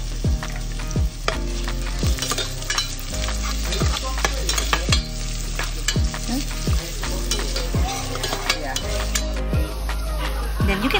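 Onions fry in a pan with garlic, a loud continuous sizzle punctuated by regular rhythmic scrapes and clanks of a spatula stirring against the metal.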